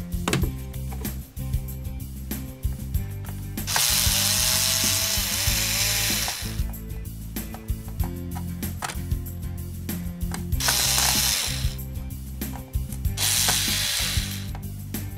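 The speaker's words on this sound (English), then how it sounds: "There's two screws up here in the front, so you have to remove these two." Screws being removed from the front panel of a Crate BX100 bass amplifier with a ratcheting tool, producing repeated loud clicking ratchet runs in several bursts with pauses between them, close up and alone.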